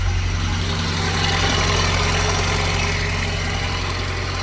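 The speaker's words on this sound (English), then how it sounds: "The noise you can hear across the top of the engine are the tappets." A car engine idles steadily and loudly, with a continuous rattling, busy ticking of the tappets across the top of the engine over a low hum.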